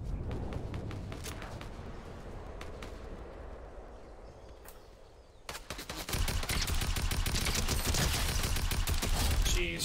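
Gunfire in Fortnite, heard first as scattered single shots, then after a brief lull as a loud, rapid, sustained volley of close-range fire.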